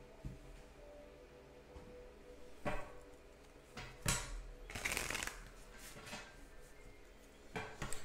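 Tarot cards shuffled and handled by a single person, soft riffling and sliding bursts with a few sharper snaps and taps, close and quiet, no talk over them.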